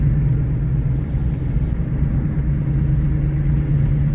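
A car driving along a road, heard from inside as a steady, loud low engine and road rumble that continues unbroken for the whole clip.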